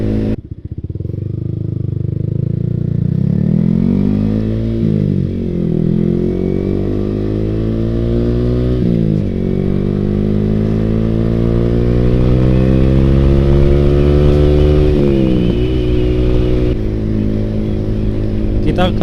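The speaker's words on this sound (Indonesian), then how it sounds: "Beda dengan knalpot yang pendek, maka suaranya akan semakin keras." A loud Yamaha R15 V3 motorcycle with an aftermarket Ronin Hanzo exhaust runs close by, revving repeatedly so its pitch climbs and drops in waves, with a deep rumbling exhaust throughout.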